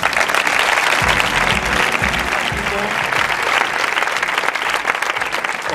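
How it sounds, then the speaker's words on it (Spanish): Dense crowd applause at a homage ceremony organised by a town hall, steady sustained clapping from many hands filling the whole stretch, with a few nearer heavier claps early on. "Así que un fuerte aplauso para Juan."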